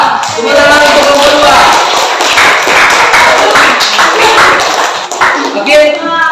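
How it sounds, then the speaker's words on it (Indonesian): A classroom of students applauds a group during a lesson, a dense burst of many hands clapping for several seconds, with a teacher's voice speaking over and around it. "Tepuk tangan untuk kelompok"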